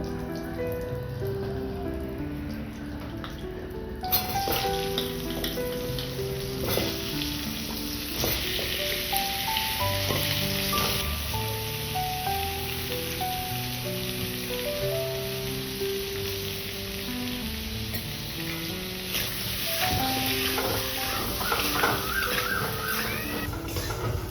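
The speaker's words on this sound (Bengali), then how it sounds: "তেলেতেই আলুগুলো দিয়ে দেবো" Potatoes frying in hot oil for a Bengali village-style jackfruit and egg curry, with a continuous close, bright sizzle under background music.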